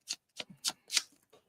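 Tarot cards are handled close up during a shuffle for a draw, giving four or five quick, crisp papery riffles and slaps separated by short silences.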